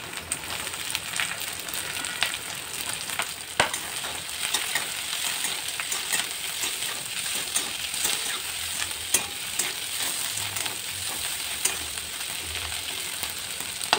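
Capsicum stir-fried in a pan while making a veg roll or frankie, a steady soft sizzle with scraping stirring strokes and occasional clacks of the spatula, no voices.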